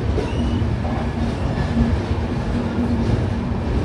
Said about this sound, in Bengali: আমাদের ট্রেন এসে ঢুকলো 1 নম্বর প্ল্যাটফর্মে।